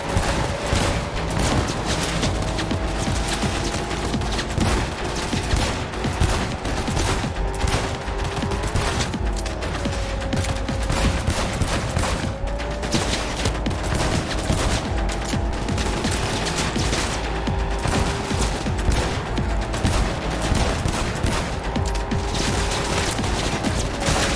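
Dense, continuous gunfire from ranged weapons fired out of a car window in Cyberpunk 2077, rapid bursts layered over a steady engine drone and droning tones, loud and relentless throughout.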